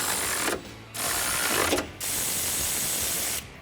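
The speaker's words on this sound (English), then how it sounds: "grab a 14 millimeter socket and tighten them down." Ratchet wrench with a 14 mm socket tightening mounting hardware for nerf side step bars on a 2019-2020 RAM 1500, heard as three bursts of rapid clicking separated by short pauses, close and fairly loud.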